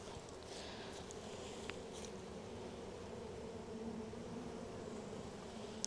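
Honey bees in an opened hive being broken down for winter make a steady, close, continuous buzzing hum with no talk over it.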